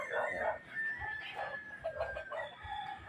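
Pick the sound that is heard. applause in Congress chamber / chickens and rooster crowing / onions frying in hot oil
chickens and rooster crowing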